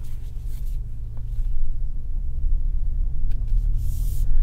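A 2020 Lincoln Navigator SUV cruising gently in Eco mode, heard from inside as a steady low engine and road rumble with faint rattles, loud and unbroken.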